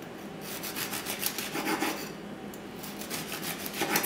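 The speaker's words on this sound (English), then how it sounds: "What we're gonna do is just slice these about 1/2 an inch," Serrated knife sawing through twice-baked chocolate biscotti on a board, a close raspy back-and-forth scraping in short rhythmic strokes, fairly quiet and alone.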